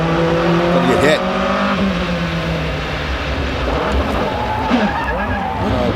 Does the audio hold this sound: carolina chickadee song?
no